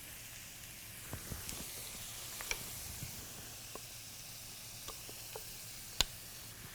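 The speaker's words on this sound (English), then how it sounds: "going to start the sauce by sweating down some onion and shallot and ginger and garlic" Onion, shallot, ginger and garlic sweat in a pan for a sweet and sour sauce, giving a soft continuous sizzle with occasional small pops and crackles, fairly quiet and steady with no voices.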